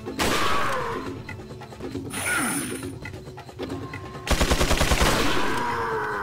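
Gunfire in Resident Evil 4 hits an enemy: loud repeated shots and bursts with mechanical clicks, ending in a rapid automatic volley.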